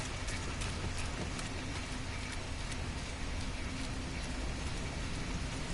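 Rain falling outdoors near a cave, a dense, even hiss of drops pattering on surfaces, steady and fairly loud throughout with no voices.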